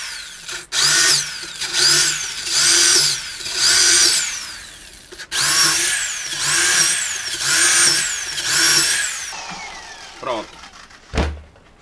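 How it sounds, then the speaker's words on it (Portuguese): A power drill bores through a wooden skateboard deck blank in repeated loud whining bursts, each rising and cutting off, followed by a few thunks and handling knocks near the end. "Aí você vem e fura."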